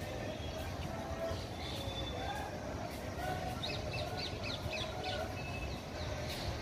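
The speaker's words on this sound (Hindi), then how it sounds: "चिड़ियों की चहचहाट सुनाई दे रही थी।" Birds chirp and a crow caws in the early morning at a quiet railway station, faint and scattered over a low steady background hum.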